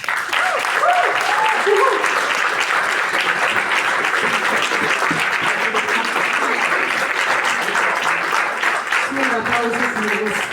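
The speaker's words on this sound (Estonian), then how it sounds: "Suur aplaus esimesest." An audience at a school playback show claps loudly and steadily, dense continuous applause filling the room, with a few voices and cheers mixed in underneath.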